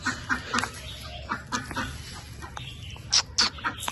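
Ducks quack in short bursts near a pigeon cage, several close calls scattered over a busy outdoor background with other birds.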